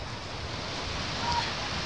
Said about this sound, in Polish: z tym wyjątkowym pogłosem szumu morza